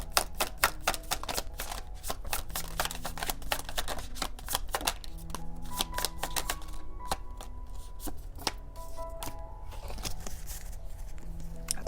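Tarot cards being shuffled, a long run of quick papery riffles and flicks in uneven bursts, close and fairly quiet, with no voice over them.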